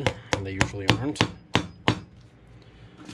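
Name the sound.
hammering brass clinch nails into leather shoe heel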